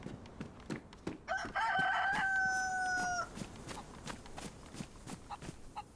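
A rooster crows once in the video game DayZ, a clear, drawn-out cock-a-doodle-doo lasting about two seconds, heard alone against faint ambient clicks and footsteps.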